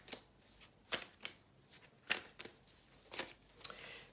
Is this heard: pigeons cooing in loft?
no